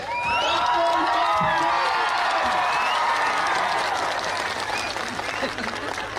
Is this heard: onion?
no